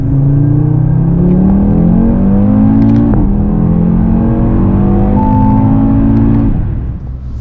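An Audi car engine revving hard through gears in manual mode, a loud close drone climbing in pitch with brief dips at each shift, then fading out at the end.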